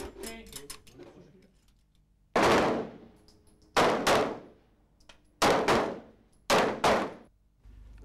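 Pistol shooting practice at a gendarmerie range: a few distant clicks, then four sharp, loud shots with ringing tails, spaced about a second or more apart, alone without talk.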